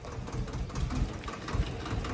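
A tractor engine runs at idle with a steady, close, low mechanical rumble and faint knocking pulses throughout, with no voices.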